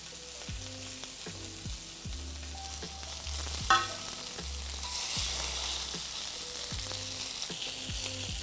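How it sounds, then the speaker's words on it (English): Heart of palm sautes in a hot pan, giving a continuous hissing sizzle that swells in the second half. A faint low musical bed plays underneath. "Pan's ready to go. Time to saute."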